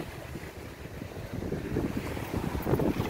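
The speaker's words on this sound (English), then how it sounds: "you hear the water though?" Water washing at a beach at night near a lit bridge, a rough broadband wash with gusty wind buffeting the microphone, growing a little louder toward the end, with no voices.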